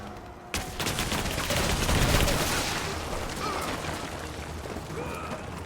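Rapid video-game gunfire in Rise of the Tomb Raider, a dense, continuous crackling volley after a sharp onset, loud and sustained for several seconds with faint voice sounds mixed in.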